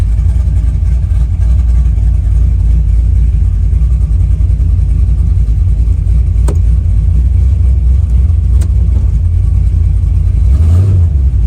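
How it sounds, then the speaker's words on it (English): A 1971 Chevelle with a modified TH400 transmission pulls away under throttle, its engine a loud, steady, close low rumble that holds throughout with no talk. "Like it's more responsive when I hit the gas."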